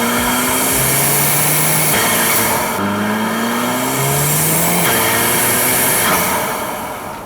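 A Volkswagen MK7 GTI engine with a Mamba GTX3071R turbo, recorded in the engine bay, revs hard again and again, pitch sweeping up and dropping back between pulls, loud and close, with no voices.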